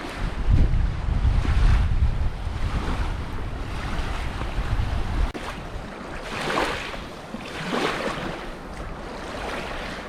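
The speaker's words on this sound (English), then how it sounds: "the water's just too choppy to have a good swim in" Wind buffets the microphone in heavy gusts while choppy lake water slaps and washes nearby at Crummock Water by a boathouse, the surges of waves rising and falling.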